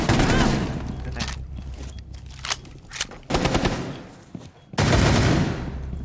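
Bursts of automatic gunfire ring out in Rainbow Six Siege, loud rapid volleys broken by short pauses and isolated shots, with a final sustained burst near the end.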